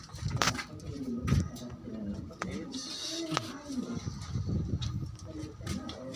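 Pigeons cooing close by in a few soft, low bursts, with scattered clicks and shuffling noises and a voice speaking intermittently over them.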